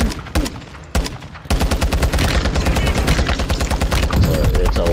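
Rapid automatic gunfire in the Call of Duty Warzone video game, with a few scattered shots followed by a dense, loud, sustained burst of machine-gun fire close by.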